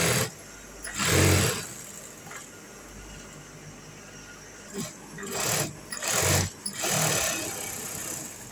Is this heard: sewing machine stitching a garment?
yes